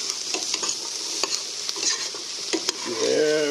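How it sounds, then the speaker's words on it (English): A spoon stirs lemon through softening onion in a pot for asparagus lemon Parmesan soup, giving soft scraping strokes over a steady low sizzle, close and alone. "I'm going to stir that in, mix that in with the onion, get them coated a little bit."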